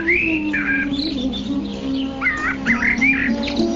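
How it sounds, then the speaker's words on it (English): Birds chirp and whistle in garden trees, a steady chorus of sweet, bright calls layered over one another throughout, close and clear with a faint low hum underneath. "in the trees, which are maintained in gardens by the demigods, varieties of birds chirp with sweet voices"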